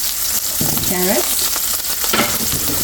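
Onions, serrano-type pepper and carrots stir-frying in a pan for a chicken and mushroom stir fry, a steady close sizzle with scraping spatula strokes and a brief whistling tone early on.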